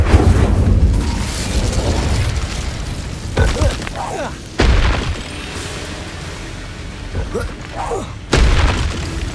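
The Incendio fire spell is cast repeatedly in Hogwarts Legacy, with several loud, whooshing booming bursts spaced a few seconds apart over a dense background of game sound.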